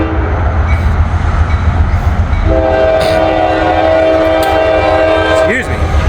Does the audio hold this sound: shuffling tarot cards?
no